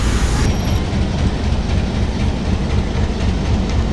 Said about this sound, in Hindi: राइट टाइम चल रही है हमारी ट्रेन